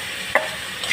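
Two dried red chillies and black cumin seeds fry in a pan, with one sharp sizzling burst and a fainter hiss after it, close and short.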